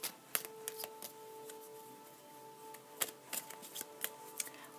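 A deck of oracle cards being shuffled close by, with quiet papery riffles and sharp clicking snaps at irregular intervals against a soft steady hum.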